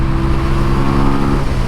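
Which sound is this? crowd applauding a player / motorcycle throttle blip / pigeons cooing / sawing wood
motorcycle throttle blip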